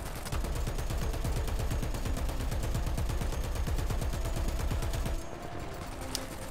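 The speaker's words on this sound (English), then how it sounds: "Stop shooting at me" Automatic fire in War Thunder, aimed at the player's tank, hammers steadily as a fast, even stream of loud shots for about five seconds, then cuts off to a low engine rumble.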